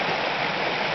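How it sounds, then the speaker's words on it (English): A waterfall and rushing stream roar steadily and close by along a remote Pacific Northwest hiking trail, a dense, even wash of water noise with no break. "Look at that waterfall."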